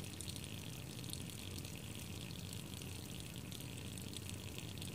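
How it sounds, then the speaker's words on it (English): Water draining from the bottom of a faulty household hot water cylinder, running down a hose pipe, giving a steady, even rushing and trickling wash that continues without a break. "I'm draining down this tank. The bottom of the tank there, the water's running down this hose pipe."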